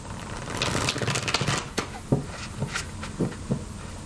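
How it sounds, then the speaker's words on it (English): Tarot cards being shuffled by hand during a reading: a series of brisk riffling and tapping bursts, close and fairly loud, irregularly spaced over a few seconds with no speech over them. "We want to shuffle these cards really good."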